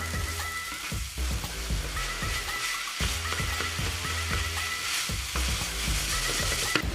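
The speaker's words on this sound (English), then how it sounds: "Add the minced meat and mix very well." Minced meat for Cuban picadillo frying in a pan with green pepper, a steady sizzle broken by repeated scraping knocks of a spoon stirring, close and without voices.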